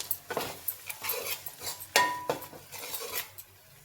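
Spices, salt and chili powder are stirred into a Telangana-style curry in a pot, a spoon scraping and clinking against the metal in irregular close strokes, with one sharper ring near the middle.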